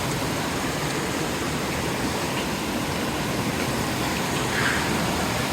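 A river in Maine on the Appalachian Trail rushes in a steady, dense roar of flowing water, loud and close, with no talking over it.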